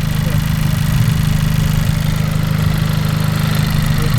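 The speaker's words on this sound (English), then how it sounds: "the car idles fine" A car that is losing coolant idles with a constant, close, low rumbling hum that holds an even rhythm throughout.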